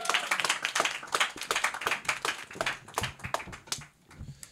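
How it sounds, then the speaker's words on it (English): An audience at a comedy lottery show claps quietly, the sharp claps forming a loose, uneven patter that thins out toward the end. "Put your hands together right now for Suhail Mufara"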